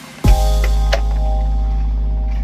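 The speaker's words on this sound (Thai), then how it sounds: "เรามาฟังเสียงเครื่องไงครับ" A 1300 cc Mazda Familia with CDI ignition starts and settles into a steady idle, its even engine hum loud and close, with a brief blip partway through and no voices.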